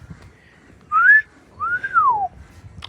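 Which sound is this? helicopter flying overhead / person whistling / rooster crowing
person whistling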